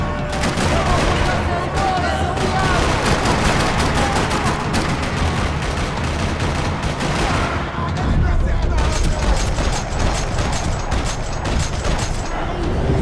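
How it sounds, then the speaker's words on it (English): Gunfire rattles through a parking lot in the shooter game Max Payne 3: dense bursts of rapid automatic shots and overlapping single cracks, loud and nearly continuous, with a brief lull before the firing resumes, and voices faintly mixed in. "Another parking lot rattling with gunfire."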